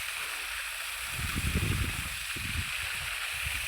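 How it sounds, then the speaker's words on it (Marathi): Water runs down an irrigation channel in a wheat field, a steady close gurgling flow with the pump motor running, with a few louder splashy surges. "तर पाणी चालू आहे खाली पाटानं."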